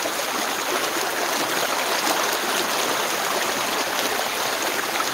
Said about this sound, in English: show you the creek a bit here.